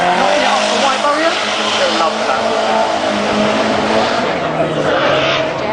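A race car at Lydden Hill circuit roars steadily through a qualifying run, its tires squealing as it brushes a barrier, while a commentator talks over the engine.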